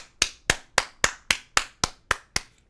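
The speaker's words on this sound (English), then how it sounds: "Let's clap it up for the streamers." Hands clap nine times in a steady, evenly spaced rhythm, each clap sharp and close with a quick decay, with no voices over them, during a live stream.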